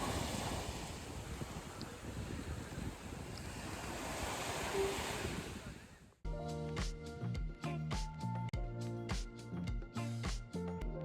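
Waves wash onto a Barcelona beach with wind buffeting the microphone, a broad steady surf roar that cuts off abruptly partway through, replaced by other unrelated sounds.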